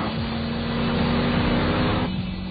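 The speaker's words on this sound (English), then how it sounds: "The engine a bit empty, still making plenty of noise" A 1999 Lamborghini Diablo GT engine on a race track roars loud and steady for about two seconds, then its pitch drops abruptly as the throttle eases near the end.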